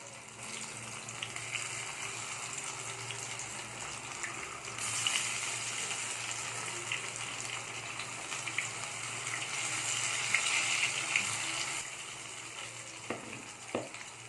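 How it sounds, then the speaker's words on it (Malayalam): Oil sizzles and crackles steadily in a pan as eggplant slices fry, with occasional sharper pops and a soft clink near the end. "ഇനി ഓരോന്നായിട്ട് നമ്മൾ പൊരിച്ചെടുക്കുക"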